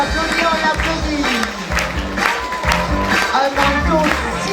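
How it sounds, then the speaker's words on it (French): Audience applause breaks out at a charity fashion show against cancer as a black, white and coral dress is presented, steady clapping and crowd noise filling the room under an ongoing voice. "On l'applaudit."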